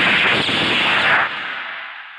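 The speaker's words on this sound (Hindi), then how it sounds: "ये गोलियां तो हवा में चली हैं," Gunshots fired into the air in a Hindi action film ring out as a loud, sustained burst of blast noise, then a reverberant tail fades away.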